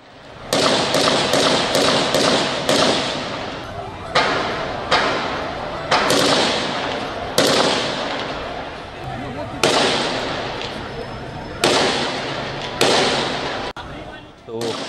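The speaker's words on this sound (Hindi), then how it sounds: "शदीद फायरिंग की आवाज़ें सुनाई दे रही थी" Heavy gunfire during an attack on the Karachi Police Office, sharp repeated bangs, some in quick bursts and others spaced a second or two apart, loud and echoing over a steady background with voices.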